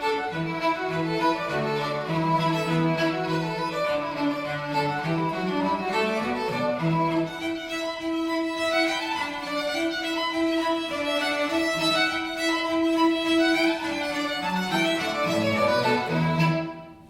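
A strathspey tune played with straight, even reel-like quavers instead of the usual snapped rhythm, a steady melodic line with drone-like low notes running continuously for about seventeen seconds with no talk.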